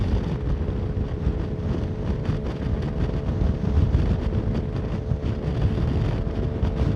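Strong wind buffeting a GoPro suction-mounted on a vehicle in a constant low roar, with gusty bursts throughout and a faint engine drone underneath, on Derbyshire roads.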